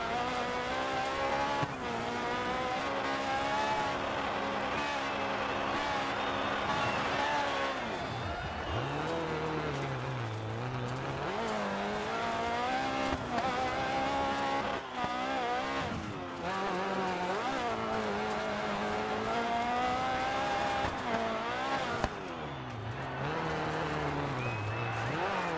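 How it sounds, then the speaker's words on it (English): Rally car drifting in the DiRT 4 racing game, a steady loud engine whine rising and falling through gear shifts with tire squeal during slides, continuous throughout with game audio and occasional speech over it. "Sick drift."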